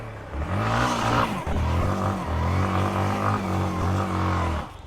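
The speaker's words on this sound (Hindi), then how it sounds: "ब्रेक से जैसे ही पैर हटा, क्लच छोड़ा, टायर घूमा।" A motorcycle engine revs hard as the clutch is released and the rear tyre spins the bike round, loud pulsing bursts of throttle with short dips between, close and without speech.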